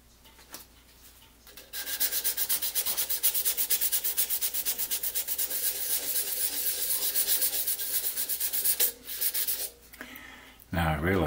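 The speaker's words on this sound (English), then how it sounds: "why would I be sanding it down? Well, where I'm sanding is just the surface." A surface on a drawing or art piece being sanded down by hand, a close rapid back-and-forth scratchy rasp with a fast steady rhythm lasting several seconds before stopping and briefly resuming.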